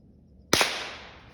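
A single sharp gunshot fired while squirrel hunting outdoors cracks out loudly after a quiet pause, then its echo rolls away and fades over about a second.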